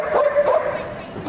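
A six-year-old Hungarian Vizsla at the Crufts agility ring gives a couple of quick yipping barks close by, under a commentator's voice and arena noise.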